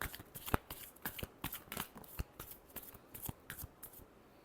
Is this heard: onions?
no